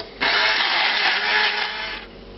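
A food processor whirs loudly for about two seconds, pureeing a fish mousse mixture seasoned with white pepper and Dijon mustard, starting abruptly and then cutting off, with no talking over it.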